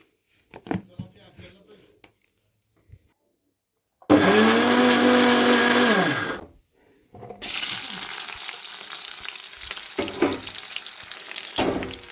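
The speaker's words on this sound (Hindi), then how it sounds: "हम इनको धोते हैं और फिर मिक्सर में पीसते हैं।" A mixer grinder grinding washed leaves into paste whirs loudly for a couple of seconds, pauses, then roars again in a longer, harsher grinding run.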